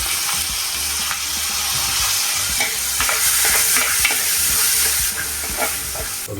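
Loud, continuous frying sizzle as masala is stirred in a pan for Kerala-style fish head curry, with repeated scraping and clattering strokes close up.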